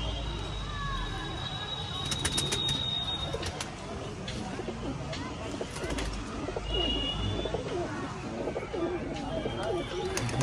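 Pigeon perched at its roost during a pigeon flying tournament, with soft cooing and bird calls over a continuous outdoor background while someone talks nearby.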